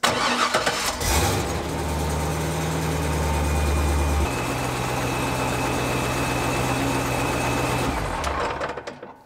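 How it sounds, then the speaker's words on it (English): A manual-transmission C5 Corvette with about 80,000 miles and an aftermarket exhaust starts up and settles into a steady idle in neutral with the clutch out, a loud, continuous rumble with a faint rattly edge, close up and alone. "If I leave the C5 running with the transmission in neutral and the clutch pedal let out, it can be kind of noisy."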